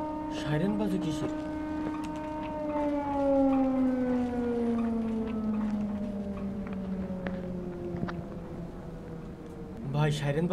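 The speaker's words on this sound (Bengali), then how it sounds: "সাইরেন বাজে কিসের?" A long wailing siren in the horror video game Don't Scream drones on, its pitch slowly falling over about ten seconds, with a voice talking briefly at the start and end.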